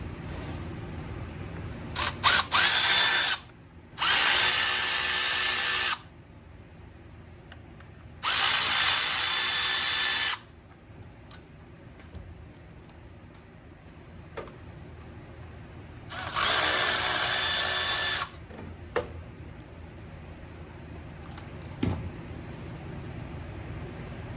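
A power drill spins out four small screws on an Ariens snowblower during RS 800 transmission work, four loud whirring bursts of a few seconds each separated by pauses, close up with faint clicks and handling noise between.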